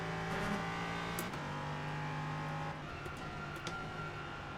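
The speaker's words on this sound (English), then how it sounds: "Oh, I'll tell you what, I do like that engine sound." An LMP3 prototype race car in the iRacing sim, its engine holding a steady droning tone that shifts pitch partway through, heard up close with no talk.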